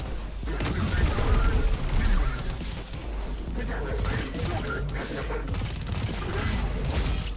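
A Scatter grenade from the Destiny 2 Voidwalker subclass detonates in a loud, crackling spread of blasts and smashing impacts, with noisy clatter continuing throughout.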